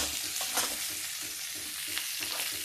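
Chopped onion stirred into a raw mango pickle mixture in a home kitchen, giving a steady close scraping and mixing sound with a soft sizzle-like hiss and a few sharper stirring strokes.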